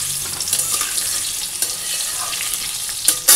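Meat fries in a wok of oil reused from frying papad, a continuous close sizzle and crackle with occasional stirring scrapes and a sharper clatter at the end.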